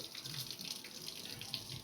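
Water running from a tap as it is collected, a steady close splashing stream with no talk over it.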